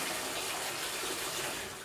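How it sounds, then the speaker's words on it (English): Water runs steadily from a tap into a bathtub as it fills, a continuous broadband gushing and splashing that stays loud and even throughout, with no voices. "Before you apply your silicone, fill your tub with water."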